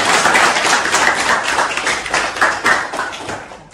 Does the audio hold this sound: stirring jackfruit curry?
no